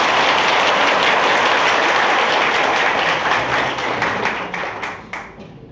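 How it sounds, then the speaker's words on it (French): Applause from an audience at an international vodou festival in Gonaïves, a dense wash of many hands clapping close and loud, thinning and fading toward the end. "On nous applaudit."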